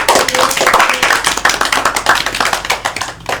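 Students in a microteaching classroom session clap together, a loud run of quick, sharp claps in a fairly regular rhythm that thins toward the end.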